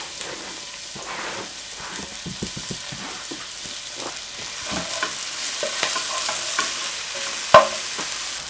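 Onion, scallion, ginger and garlic frying in extra virgin olive oil in a heated pan, a steady close sizzle broken by repeated stirring scrapes and clatters, with one sharp knock near the end.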